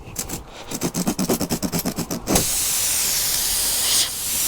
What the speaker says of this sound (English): You can hear the air coming out of there